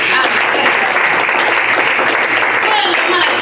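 A church congregation claps together at a Spanish-language service, a dense, loud, steady wave of applause that fills the room without a break.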